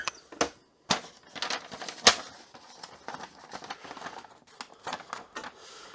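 Olivetti DM 309L 9-pin wide dot-matrix printer feeding paper on line feed, giving a string of short, close mechanical clicks and ratcheting bursts at an uneven rhythm, with no talk.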